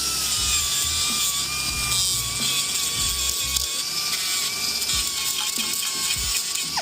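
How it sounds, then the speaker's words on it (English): A 2-inch grinder deburring the edges of a machined metal part from a Haas VF-2 runs in a steady high-pitched whine, with scraping contact noise rising and falling as it works along the edges. "Then what we do is take this 2-inch grinder"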